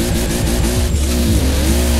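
A max-tuned Toyota Supra MK4 in Forza Horizon 4 accelerates hard, its engine note loud and constant with rising and falling harmonic sweeps as it revs, with no voices over it.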